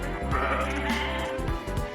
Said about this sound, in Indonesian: kambing muda punya logat khas yang mengubah suara ngembek mereka